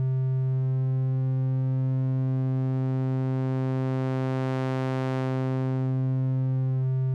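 Synthmaster 3 VAnalog oscillator holding one steady, rich harmonic note while its waveform morphs smoothly with no stepping, the brightness slowly swelling and fading over about seven seconds, played alone.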